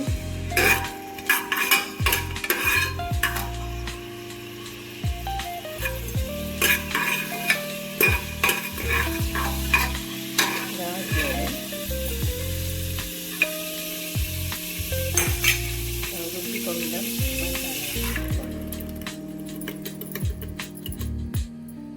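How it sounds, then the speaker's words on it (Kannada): Uppittu ingredients fry and sizzle in a pan while a spoon stirs and scrapes against the metal in repeated clanking strokes, the sizzle steady and close throughout with no talking. "ಇದನ್ನು ಸ್ವಲ್ಪ ಫ್ರೈ ಆಗಬೇಕು"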